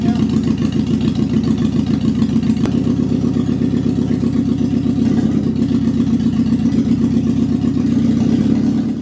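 A 1955 Ford Popular car engine with a carburettor idles steadily with a low, even rumble and faint clatter, running continuously throughout with no talking.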